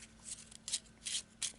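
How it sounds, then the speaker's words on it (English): A quick shuffle of Eldritch Horror board game cards gives four faint, brisk papery riffles at a steady rhythm, with no talk. "So, quick shuffle."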